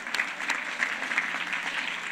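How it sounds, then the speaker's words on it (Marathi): An audience claps at a college event at S.K. Patil Sindhudurg College in Malvan, with brisk, dense applause filling the short moment at a fairly even level. "त्या माणसासाठी जोरदार टाळी होऊन जाऊ देत"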